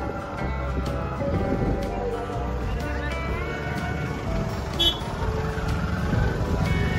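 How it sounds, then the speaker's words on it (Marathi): Road traffic jam at a temple gate during a yatra at Mahakali temple in Adivare: a steady, dense wash of idling vehicles, crowd murmur and scattered high horn-like tones, continuous and fairly loud throughout. "अरे इथे फुल ट्रॅफिक जाम झाला."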